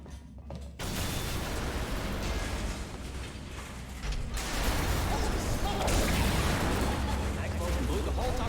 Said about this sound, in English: That explosion blew the whole toxic food pump station apart.